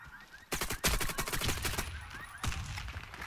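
Loud gunfire rattles in the shooter game Warface, with rapid bursts of automatic fire in tight clusters and repeated sharp cracks continuing throughout.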